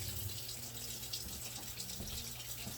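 Water pours steadily into a pot or container while mixing brine for canning dilly beans with vinegar, a continuous faucet-like gush running alone at moderate level without pause.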